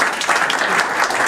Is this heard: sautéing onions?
no